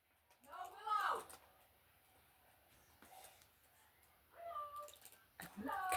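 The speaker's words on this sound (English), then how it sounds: "Cat's trying to climb out of a window." A house cat meows in strained, rising cries near an open front-bedroom window as it tries to climb out, with several calls spread across quiet pauses and faint household noise.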